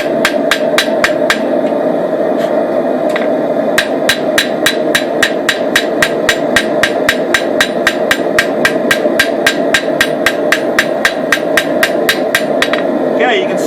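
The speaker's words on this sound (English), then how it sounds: "Okay, so little hammer blows." Small hammer blows forging a blade, a long steady run of sharp, bright metallic strikes at a brisk even rhythm, loud and close, with a short pause early on.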